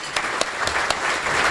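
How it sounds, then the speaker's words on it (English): Audience at a regional chamber of commerce meeting claps steadily for long-standing members, a brief indoor round of applause with scattered sharper claps. "Let's give these members a round of applause as well."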